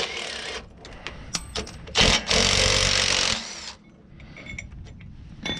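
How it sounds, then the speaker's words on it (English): Impact wrench removing bolts from a Ford Expedition 4x4 rear axle, with a loud rattling burst of hammering near the mic, short bursts before it, then clinks of metal parts and tools afterward. "I'm using the impact to get this stuff off"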